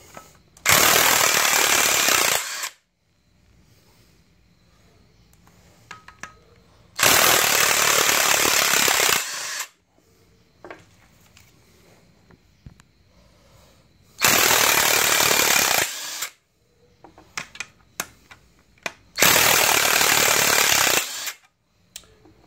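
A cordless impact wrench rated around 450 foot-pounds hammers on a 2013-2015 Chevrolet Malibu LT 2.5L during engine and transmission removal, firing in four loud, harsh, sustained bursts of about two to three seconds, separated by quieter workshop clatter.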